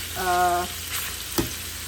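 Pork browning in a pan for pork adobo gives a loud, continuous close-up sizzle. A brief tonal hum sounds near the start, and a single soft knock from the pan comes later.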